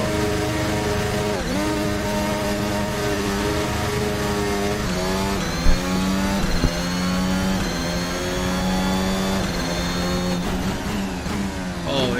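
A race car engine in a VR sim racing game, a car harder to drive than the Formula Hybrid and prone to porpoising, holds a loud continuous high-revving whine, its pitch rising and dipping through gear changes with no talk.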